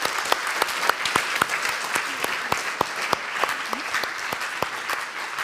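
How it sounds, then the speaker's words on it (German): Applause from an audience at a youth hackathon event in Munich, scattered individual claps ringing out over a steady bed of clapping for about five seconds, with faint voices underneath. "Großen Applaus dann auch."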